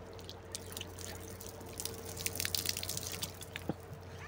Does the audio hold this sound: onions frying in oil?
no